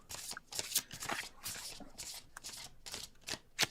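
Regular playing cards are shuffled in quick riffling bursts, a crisp flutter of card edges repeating several times, close and clear with no talk.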